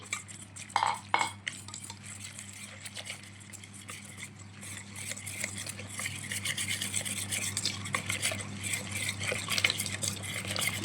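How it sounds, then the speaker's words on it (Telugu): Gram flour batter being stirred in a bowl to break up lumps for bajji, a steady close rubbing and scraping swirl, with a couple of knocks early and a constant low hum beneath. "ఇలా ఉండలు లేకుండా బాగా కలుపుకోవాలి"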